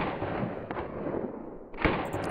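An airsoft submachine gun replica, a Walther MPL or H&K MP5 by WOG, fires two sharp single shots under a steady rushing background noise.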